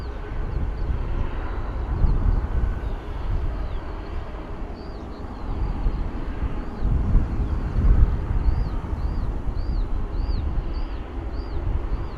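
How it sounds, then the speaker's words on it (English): A Jet2 Airbus A330 airliner passes over Bristol Airport with a broad, steady roar of engine noise and wind, while small birds chirp faintly throughout. "There we go, Jet2 A330 flying over."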